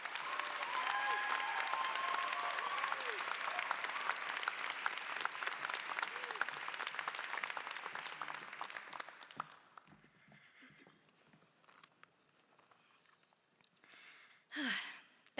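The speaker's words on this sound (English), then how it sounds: "Please give her a round of applause and a warm welcome for Samantha Levy." Audience applause fills a convocation ceremony hall, a dense sustained roar of many hands for about nine seconds before thinning into scattered claps and room murmur, with a brief late swell.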